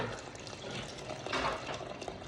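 Boiled water poured into a pot for chicken arroz caldo makes a steady, close splashing gush that runs without a break and has no voices over it.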